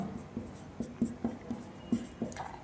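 Pen scratching on paper while writing out a math answer for a class 9 polynomial exercise, a steady series of short strokes close up with no talking.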